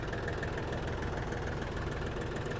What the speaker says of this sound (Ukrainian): Заводиться трактор.